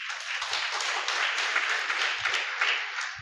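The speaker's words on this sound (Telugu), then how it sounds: "మీరందరూ చప్పట్లు కొట్టరా?" A church congregation claps together during a service, a dense, even burst of many hands sustained steadily for a few seconds, fairly close and without talk.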